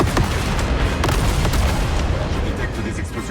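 Explosions from the Star Wars Outlaws video game, a dense continuous rumble of booming blasts and gunfire-like bursts with sharp impacts, loud throughout, mixed with faint voice chatter.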